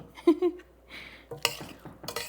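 A vegetable curry (sabzi) is stirred in a home kitchen pan, with a few scraping clinks of a spoon against the metal after faint voice-like sounds, all at a close but modest level.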